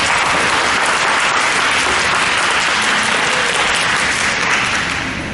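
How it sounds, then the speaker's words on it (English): An audience at a candidate forum breaks into loud, continuous applause, a thick steady wash of many hands clapping that holds for several seconds before slowly beginning to fade. "Let's give them a round of applause"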